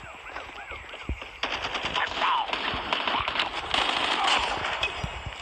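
Automatic gunfire in Call of Duty Mobile rattles in rapid bursts, fairly loud and close, with overlapping shots, scattered game effects and faint voices in the background.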